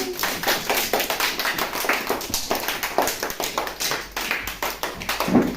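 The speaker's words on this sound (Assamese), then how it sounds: "সকলোৱে একেলগে তালি দিয়া।" Children in a classroom clap their hands together in unison, a steady run of sharp, fairly loud claps with a slightly uneven rhythm lasting throughout.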